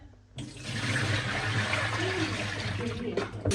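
Tap water running steadily over fresh clams as they are rinsed in a sink for a Portuguese white wine and garlic dish, a continuous close splashing flow with no talk over it.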